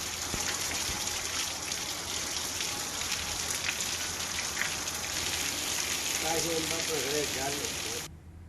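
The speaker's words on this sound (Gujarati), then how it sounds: "શહેર સહિત ગ્રામ્ય વિસ્તારમાં વરસાદી ઝાપટા પડ્યા" Heavy rain showers pour steadily across town and village areas in Patan, Gujarat, a dense, even hiss of falling water that stays loud and constant before cutting off abruptly near the end; faint speech-like tones surface briefly.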